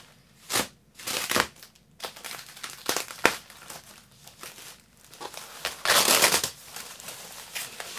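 Packaging being torn off a Squier six-string bass guitar, with loud, close crinkling and ripping in separate bursts and a long tearing stretch near the end, and no talk.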